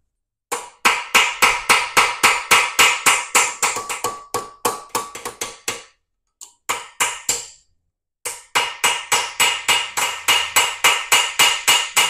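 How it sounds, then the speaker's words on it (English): Rapid, steady hammer blows on a metal welder grounding clamp extension, sharp ringing strikes in long runs with a couple of brief pauses, close and loud. "I'm gonna work this a little bit more with the hammer"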